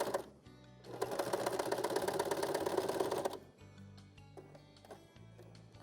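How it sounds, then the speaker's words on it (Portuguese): A sewing machine runs a straight stitch with pink thread on printed fabric, a fast even whir for a couple of seconds, then short stops and restarts with clicks and hum. "Aí pegamos com costura reta, sem segredo nenhum, a gente vai lá e costura."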